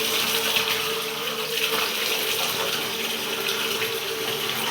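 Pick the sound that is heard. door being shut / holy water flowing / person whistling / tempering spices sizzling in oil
holy water flowing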